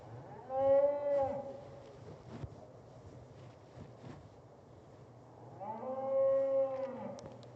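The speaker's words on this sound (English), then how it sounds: "this is your pen of 3 purebred Red Angus bulls from 6 Mile Red Angus Limited" Purebred Red Angus bulls in a stock show pen give two long, loud moos several seconds apart, with quieter pen noise and light wind between them.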